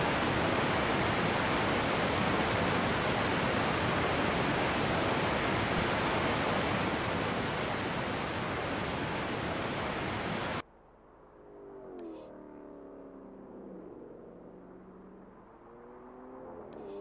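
Rushing whitewater at Derwent Whitewater in Forza Horizon 4 roars as a loud, steady broadband wash. Partway through it cuts off abruptly, leaving a much quieter, different ambience.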